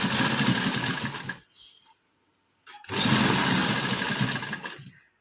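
A sewing machine stitches lace onto a suit in two loud, close bursts of rapid whirring, separated by a near-silent pause of about a second and a half.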